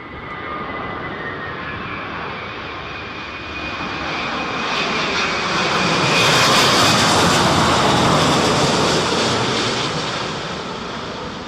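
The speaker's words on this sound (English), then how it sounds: "Listen to the engines." A Boeing 787-10 Dreamliner lands at Heathrow during a storm, its jet engines a broad roar that swells as it passes close, peaks, then slowly fades, alone with no talk.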